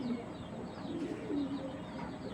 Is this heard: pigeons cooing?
yes